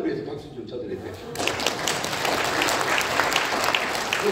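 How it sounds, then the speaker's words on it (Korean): Congregation at a church revival meeting in Toronto breaks into loud, sustained applause after a brief quieter moment, the clapping dense and steady with some voices mixed in. "자, 이따 여자분들 위해서 박수 좀 쳐드릴게요."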